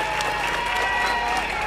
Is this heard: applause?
yes